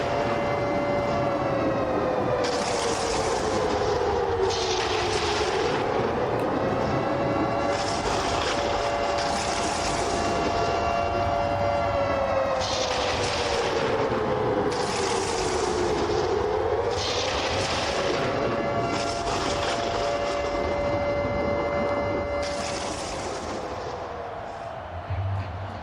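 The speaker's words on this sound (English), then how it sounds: "Let the siren play." A stadium siren after a game-tying kick at an indoor football game, loud and continuous, its wailing tone rising and falling in long sweeps for about twenty-five seconds over crowd roar and repeated blaring horn bursts.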